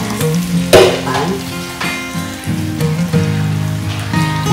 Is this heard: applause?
no